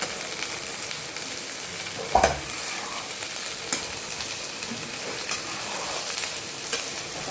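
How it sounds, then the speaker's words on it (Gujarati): Okra fries in plain oil in a home kitchen with a steady sizzle, broken by a few sharp stirring clatters from a utensil against the pan. "ફ્રાય ભીંડી બનાવવાની છે આજે"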